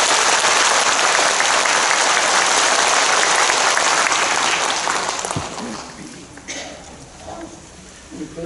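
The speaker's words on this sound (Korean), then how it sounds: "큰 박수로 환영해 주십시오" Loud, sustained applause from a crowd at a school entrance ceremony at Ilsung girls' middle and high school, filling the room for about five seconds before tapering off into scattered claps and quiet murmuring.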